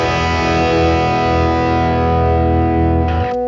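An Epiphone Union Jack Sheraton electric guitar on its bridge pickup rings out a heavily distorted sustained chord, loud and close, holding steady for about three seconds before cutting off abruptly.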